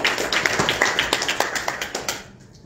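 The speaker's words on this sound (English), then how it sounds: "we do deserve a round of applause" Applause from an audience at a youth council meeting in Johannesburg: a short burst of scattered hand claps, fairly close and steady, thinning out and stopping after about two seconds.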